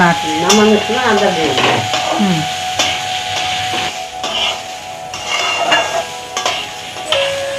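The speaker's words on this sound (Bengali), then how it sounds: "চালটা একটু ভাজা হবে" Gobindobhog rice frying in a pan for bhog khichuri, stirred steadily: continuous loud sizzle with repeated scraping and occasional metallic knocks of the spoon against the pan, close up.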